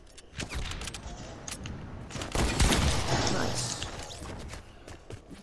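Rapid bursts of semi-auto rifle fire in a video game, a string of sharp, fairly close shots with a heavier cluster midway, over background game noise.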